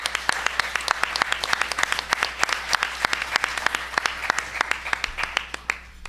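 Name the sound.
audience round of applause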